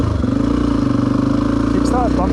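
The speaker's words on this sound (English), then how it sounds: "I should kickstart this thing." A Honda XR250 dirt bike, out hill climbing, catches after a kickstart and settles into a steady, close, throbbing idle, with a brief voice sound near the end.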